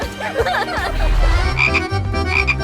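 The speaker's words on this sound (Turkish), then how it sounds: "Bakın kutuda bir kurbağa var." A frog croaks from inside a box, a steady loud croaking that carries over a musical background, with no talk over it.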